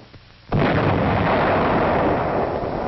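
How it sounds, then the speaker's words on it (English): Artillery salvo from a 1944 wartime battery, a sudden heavy blast after a quiet moment that rolls into a long, loud, rumbling roar filling the rest of the clip. "second salvo, 200 yards short."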